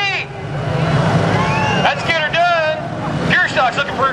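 Pure stock race cars roaring off at the green flag on a speedway, a dense wash of engines with rising whines and passing tones, heard under crowd babble and voices.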